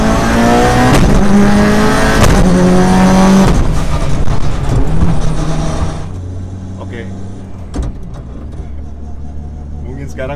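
Mitsubishi Lancer Evo 9 MR making about 523 wheel horsepower with a sequential gearbox, driven hard: a loud, continuous engine roar with rising tones and quick gear changes, easing into a lower, steadier drone partway through.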